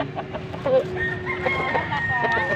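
A Basilan-breed rooster crows in a long, strained call near a poultry seller's stalls, over a low, busy murmur of background chatter and other birds.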